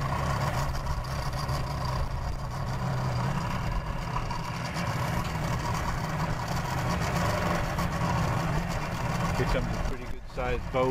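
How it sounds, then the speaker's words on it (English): A large boat's engine rumbles steadily at low pitch as it comes in to dock at a boat ramp, a continuous drone that holds for several seconds, with voices faint underneath. "Boy, that's a big boat coming in there."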